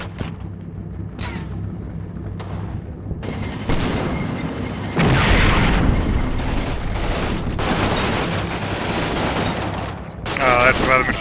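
Simulated World War II battle in Combat Mission Final Blitzkrieg, with bursts of machine gun fire, booming impacts and crackling shots that layer into a dense, continuous barrage, loud and close.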